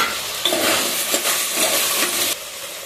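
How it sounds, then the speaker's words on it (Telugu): Raw potatoes fry in oil in a pan with tomato pieces, a close, loud sizzling hiss with stirring scrapes through the short stretch. "అవి కొంచెం వేగిన తర్వాత ఆలుగడ్డలు వేసుకోవాలండి"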